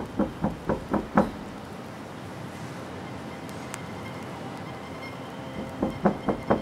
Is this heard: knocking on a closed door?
yes